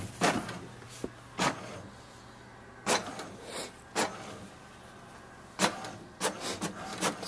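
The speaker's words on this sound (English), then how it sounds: "release the button once you hear the sound as it's printing." An HP Deskjet Ink Advantage 2776 inkjet printer printing a page, with repeated short mechanical bursts of carriage and paper-feed motion spaced irregularly over a low steady hum, fairly close and moderately loud.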